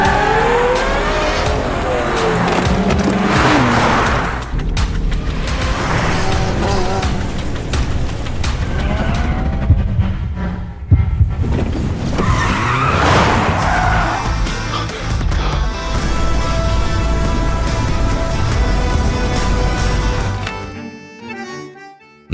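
A Porsche races a pickup truck on a track, loud engines revving and roaring past with tire squeals and skids, briefly dropping before surging again, then cutting off at the end.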